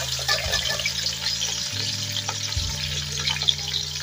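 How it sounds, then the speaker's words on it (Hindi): Onions frying in hot ghee for beef pulao make a bright, steady sizzle, with a low hum from the stove or a nearby appliance running underneath and shifting pitch partway through. "हमारा घी यहाँ पे गर्म हो गया है। अब हम इसमें प्याज ऐड कर देंगे।"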